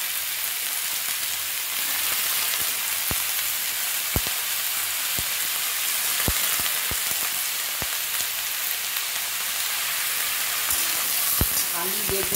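Eggplant and potato frying in hot oil give a loud, steady, close sizzle that fills the whole stretch, with sharp crackles and pops scattered throughout and no voices.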